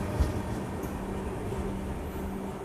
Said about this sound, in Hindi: ये गई भाई गीतांजलि एक्सप्रेस अपनी महाराष्ट्र एक्सप्रेस को ओवरटेक करके